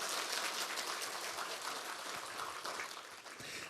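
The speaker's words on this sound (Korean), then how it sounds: "여러분들을 위해서 박수." A lecture audience claps together in a steady, fairly faint wash of applause heard from a distance, continuous and even throughout with no speech over it.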